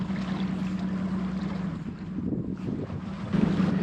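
Strong gusty wind buffets the microphone aboard a sailboat, with a low steady engine-like hum and splashing water underneath.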